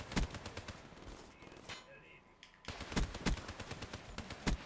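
Gunfire from the shooter video game Black Ops 3, with a string of sharp, loud shots in bursts, a short lull midway, then renewed rapid firing.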